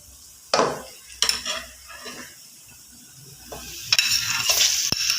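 Chicken pieces with garlic and ginger hit hot oil in a pot, giving a couple of sharp splashes and sizzles followed by scraping stirring and metallic clinks of a spoon against the pan.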